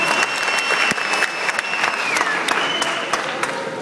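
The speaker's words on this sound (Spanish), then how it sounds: "Un aplauso para ustedes, gente," Applause from the crowd at a hip hop event, a sustained dense clatter of clapping with a few sharp individual claps standing out, a faint high whistle-like tone running over it.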